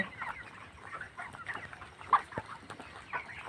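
Broiler chickens at a poultry farm at night give scattered soft clucks and short calls, fairly quiet and close, with a few sharper peeps standing out.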